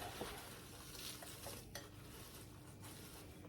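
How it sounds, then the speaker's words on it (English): Food being mixed by hand in a bowl or pan, soft squishing and stirring noises running steadily throughout with faint clinks, moderately quiet, no talking. "with clean hands, I'm going to mix this"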